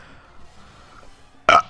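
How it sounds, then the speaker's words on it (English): A single short, loud burp bursts out near the end after a stretch of quiet background. "Wait, burp coming."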